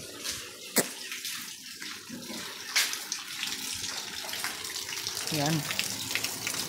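Steady outdoor rain falls under a dark sky, a dense hiss of water with a few sharper splashes, while a voice speaks briefly near the end.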